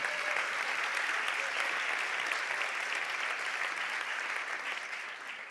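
Dense, sustained audience applause fills a sports awards gala hall, steady and loud throughout, a continuous wash of many hands with no voices.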